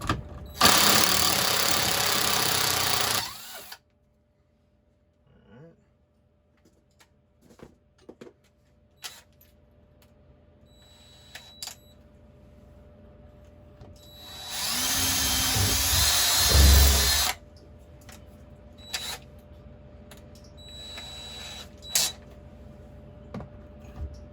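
Two loud bursts of an impact driver whirring, one at the start and another midway, with quiet clicks and handling noises between them.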